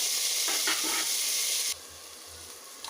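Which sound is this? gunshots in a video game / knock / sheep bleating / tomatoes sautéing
tomatoes sautéing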